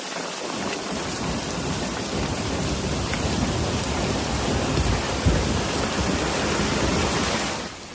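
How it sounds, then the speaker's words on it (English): Heavy rain and hail pound down in Tokyo in a dense, steady roar that fills the whole scene, with a low rumble underneath and one brief louder thud before the downpour fades at the end. "Hail fell beneath the active rain cloud and in some places accumulated on roads"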